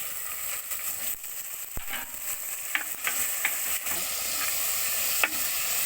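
Tomatoes and green chillies sauté in a pan for a village-style fish curry, with a steady hiss and sizzle and occasional scraping stirs of a spoon, and no voices.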